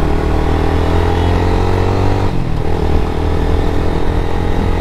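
Close, loud motorcycle engine idling and rumbling on a hot Dhaka street near the Banani U-turn, a steady throbbing drone with a brief dip in the middle amid surrounding traffic.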